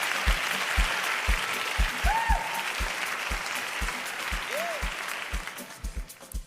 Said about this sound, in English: Please, a round of applause until he takes his seat.